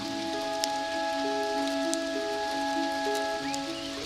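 Steady rain falls in a dense, even patter that holds throughout, set beneath a sustained droning musical backdrop with no voices.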